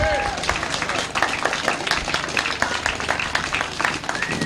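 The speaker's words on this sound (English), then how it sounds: "One big round of applause then for Joe Green, David Howe, and Kelvin Tatum" Crowd applause at a grasstrack racing championship meeting, lively scattered clapping with individual sharp claps standing out, fairly close and loud, with a few voices mixed in.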